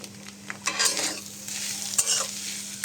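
A spicy potato filling with fresh coriander leaves and green chilies is stirred in a pan off the heat, with soft intermittent scraping and mixing strokes over a quiet background and a low steady hum.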